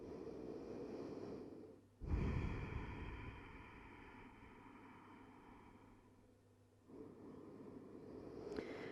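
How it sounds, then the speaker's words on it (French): Slow, deep breaths during a hatha yoga pose, heard close and soft: a long exhale, a sharp intake near the two-second mark, then another breath cycle. "Quelques bonnes respirations dans le dos entre les omoplates."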